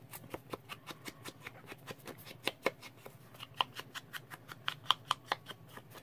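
Scissors trim a strip of paper from a journal pocket tag in a run of crisp, close snips, regularly spaced and quiet, with a faint steady background hum.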